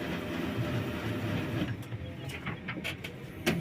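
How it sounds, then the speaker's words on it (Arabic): A printer runs through a test print with a soft, steady mechanical whir, joined later by a few light clicks and ticks, close and fairly quiet with no talking. "صوت الطبعه ناعم جدا اهوت"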